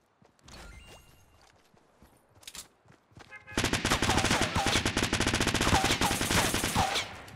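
Shotgun and other gunfire in the video game Fortnite, a few scattered shots early, then a loud, continuous barrage of rapid blasts with ringing game effects for the last several seconds.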